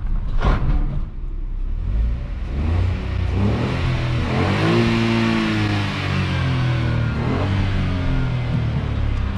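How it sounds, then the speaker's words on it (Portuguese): Ford Ka 1.0 three-cylinder hatchback braking hard on a stone road with ABS engaged, a rough pulsing rumble of tyres and brake modulation over engine drone, close and loud with no talk. "Esse barulho que ele fez agora, vocês viram, né? Isso aí é o ABS, pessoal."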